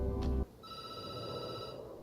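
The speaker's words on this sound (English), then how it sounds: "The phone rings and you jump." An old-style telephone rings in the game Night Call, a single bright electronic ring tone holding for over a second after a brief low thud, fairly clear against quiet background.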